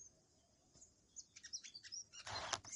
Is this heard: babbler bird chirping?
yes